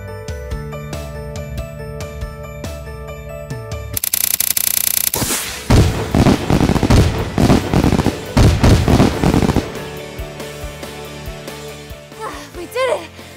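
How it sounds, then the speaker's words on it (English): Fireworks are set off in a Minecraft animation, a dense burst of loud crackling bangs and pops following a sustained hissing launch, over tonal game music and effects. "Grab as many fireworks as you can and light them off."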